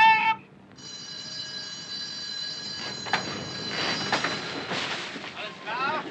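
An alarm blares aboard the submarine U47 in a 1958 film, a sustained electric ringing tone, followed by clattering, hissing machinery noise and shouted commands from the crew.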